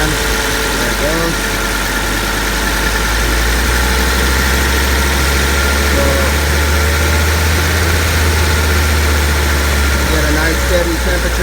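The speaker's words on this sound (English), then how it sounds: "sometimes this turbo wants to take away on me and just take off" The 1989 Mercedes 300TD turbo diesel engine runs loud and close with a steady, throbbing drone and constant vibration throughout, holding an even level rather than clearly rising.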